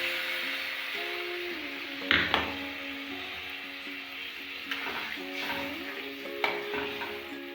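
A fish curry frying in a pan sizzles steadily while a utensil stirs, with a few sharp splashes and clinks as water goes in, close and moderately loud.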